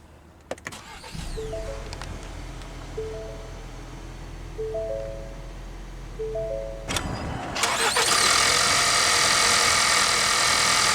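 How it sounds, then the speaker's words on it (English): A 2024 Ford Explorer ST-Line 4WD's power windows whine in short repeated bursts, then its engine cranks via push-button start and catches, settling into a loud, steady idle close by. "let's go ahead and start the engine"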